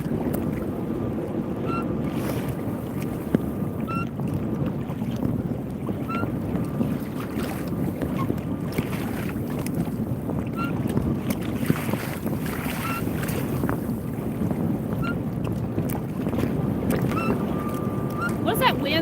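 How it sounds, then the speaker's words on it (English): Strong wind buffets a sock-covered microphone on a fishing kayak, a constant loud rumbling roar that runs unbroken throughout with faint water movement beneath it. "Do y'all hear that wind, how bad it is?"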